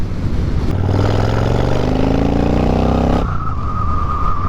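A Kawasaki Vulcan motorcycle engine pulls hard in a low gear on a back road, a loud, close, rising roar that climbs in pitch for a few seconds, then drops to a lower steady drone.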